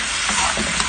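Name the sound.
stirring frying chicken gizzard adobo in pan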